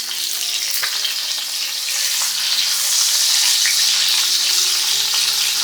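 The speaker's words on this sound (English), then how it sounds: "I'm frying it alongside with the anchovies" Salted tilapia frying in a pan with dried anchovies, giving a steady, dense hiss and crackle of hot oil that stays loud and even throughout, with no talking.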